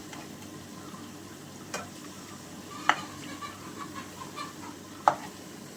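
Chicken frying in a pan, turned over in the hot oil, with a low steady sizzle and a few sharp clinks and scrapes from the utensil. No voices.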